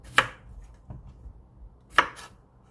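A knife trims the ends off salt-scrubbed cucumbers for Korean cucumber kimchi. Two crisp, close chops strike the cutting board about two seconds apart, with a softer tap between them and no talking.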